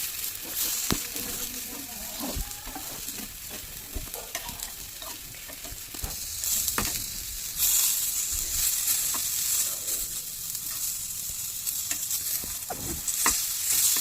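Food fries in a pan with a steady sizzle while a spatula stirs and scrapes in irregular clacks and knocks, close up with no talking.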